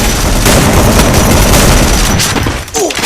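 Rapid gunfire rattles in the video game Free Fire, loud and continuous bursts that thin out near the end, with a brief voice at the close.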